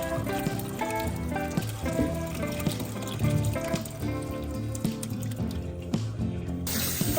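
Chhana whey pours steadily through a thin cloth laid in a basket, a continuous close splashing and trickling of liquid while making kacha golla sweets.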